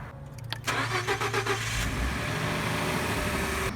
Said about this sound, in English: I'm going to run the engine for a little bit